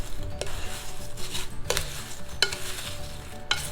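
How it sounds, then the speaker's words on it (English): Apple raspberry pie filling with a thickening agent being stirred in a bowl, a spoon scraping and clinking against the side in several sharp strokes over a faint background hiss. "I'm going to give that a quick stir."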